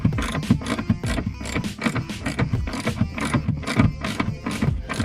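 A ratchet loosens the 14 mm bolt holding a rear seatbelt buckle in a Toyota GR86, with fast repeated clicking and mechanical scraping at close range, steady throughout.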